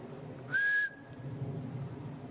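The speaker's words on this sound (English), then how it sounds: "whistle." A single short, clear whistle rings out once on a wooded ATV trail, rising slightly and then fading over steady outdoor background hiss.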